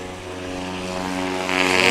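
A STOL aircraft's propeller engine drones loud and steady during takeoff at a short-takeoff-and-landing competition in Jennings, Louisiana, its buzzing tone building slightly as the plane powers away.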